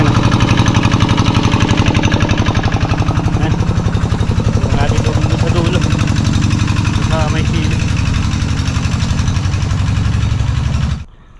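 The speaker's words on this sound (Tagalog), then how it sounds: "Paandar na yung makina natin." A small engine, apparently a water pump motor, chugs loudly and steadily with a fast rhythmic knock throughout, close to the microphone, then cuts off abruptly at the end.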